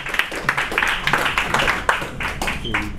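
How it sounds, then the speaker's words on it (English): An audience at a poetry open mic claps for a poet, a run of loose, uneven hand claps with sharp individual smacks that continues for several seconds. "Everybody clap it up for Selena."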